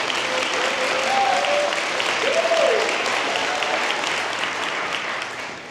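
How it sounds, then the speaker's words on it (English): Sustained audience applause at a college commencement ceremony, a steady dense wash of clapping lasting several seconds with faint voices and a brief whoop-like call mixed in. "give them a round of applause"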